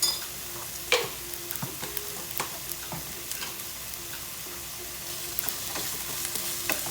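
Chopped garlic and a sprig of thyme sauteing in a pan, a steady quiet sizzle broken by occasional sharp stirring scrapes and clinks.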